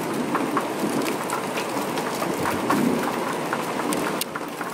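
Steady rain falls outdoors in a continuous hiss, with low rumbling swells that may be distant thunder during a storm around a parked RV, no voices prominent.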